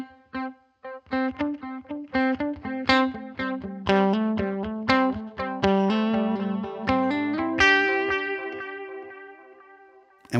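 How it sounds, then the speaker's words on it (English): A melodic line through a Simple Delay plugin set to a bucket-brigade-style mode, with wow and flutter turned up and wide spread, so dark, warbling echoes repeat and smear after each loud note, with some digital grit. "we hear that warble put onto the echoes, something like the Bucket Brigade"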